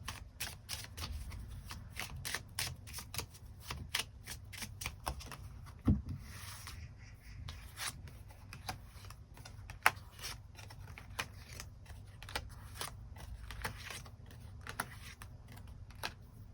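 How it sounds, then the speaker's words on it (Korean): Tarot cards shuffled close by in quiet repeated riffles, a rapid run of light papery clicks and flutters with a soft, steady rhythm and no voices. "카드 뽑아보도록 하겠습니다."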